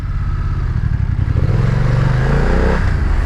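A stock-exhaust BMW F 900 R twin-cylinder motorcycle running close by, a steady loud engine drone that rises in pitch through a brief rev and then settles, with some clatter mixed in.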